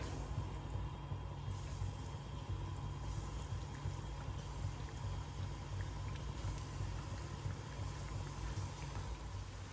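Paneer pieces dropped one by one into hot oil for chilli paneer, giving a steady, dense sizzling and bubbling that runs unbroken and fairly close throughout.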